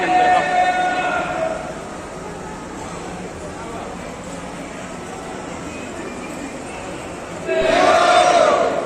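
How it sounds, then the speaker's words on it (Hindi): A crowd inside the Mahakaleshwar temple in Ujjain chants Mahakal slogans, a loud, dense, echoing wash of voices that swells again near the end. "महाकाल के नारे लग रहे हैं जोरों से"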